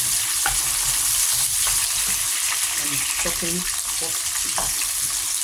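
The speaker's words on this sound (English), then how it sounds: "We start by pouring a little bit of onions on the bottom." Onions frying in oil in a pot for a quick homemade spaghetti sauce: a steady, close sizzle and hiss runs throughout, with brief faint tonal sounds partway through.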